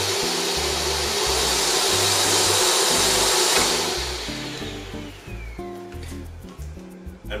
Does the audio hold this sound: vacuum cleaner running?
yes